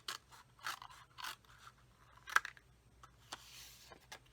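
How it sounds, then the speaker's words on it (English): Scissors trimming card paper for a handmade card, a series of faint, quick snips and crisp cuts close by with gaps between them. "use my scissors and just trim away a little bit of that exterior."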